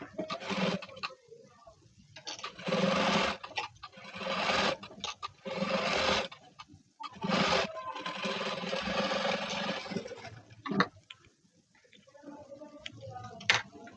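A sewing machine runs in repeated short bursts while stitching a blouse with double piping, the rapid clatter starting and stopping with quiet pauses in between.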